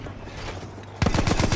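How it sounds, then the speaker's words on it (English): Rapid loud gunshots from a slug-round shotgun in Battlefield 1 burst out after a second of muffled battlefield ambience, several close blasts in quick succession. "Oh, he's got a slug gun."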